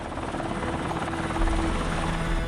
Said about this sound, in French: Le premier hélicoptère donc, se présente au plus près du groupe pour le récupérer